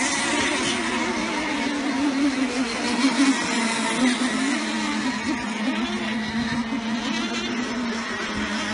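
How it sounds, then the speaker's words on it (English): Nitro racing boats run on a course during a heat: a steady, high engine drone from several boats at a distance, holding level and wavering slightly, with no voices. "All five boats up and running on the course."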